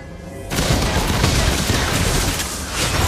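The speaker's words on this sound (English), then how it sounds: "Behold, my crescendo of bullets!" Granger's ultimate firing off in Mobile Legends: Bang Bang, a brief quieter lead-in that gives way at once to a dense, sustained barrage of loud booming shots and crashing impacts lasting to the end, with no talk over it.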